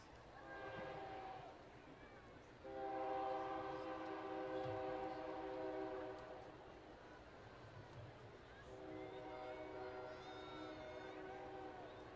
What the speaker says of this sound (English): please pause with us as we allow the train to pass.